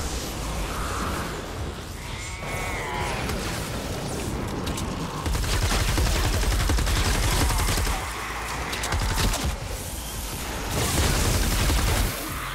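Rapid, dense weapon gunfire in Fortnite Save the World as zombies are fought, loud bursts with booms over a constant game soundscape, nearly continuous throughout.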